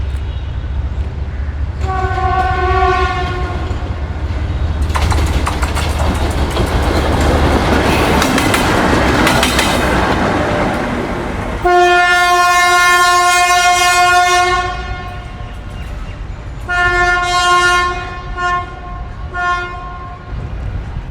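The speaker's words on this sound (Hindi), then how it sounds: "तो ये एक अदद लाइट पावर आ रही है" A Pakistan Railways light engine locomotive, GU 49004, runs by with loud, long horn blasts over a heavy rumble and clatter, the horn sounding several times before fading into rolling wheel noise.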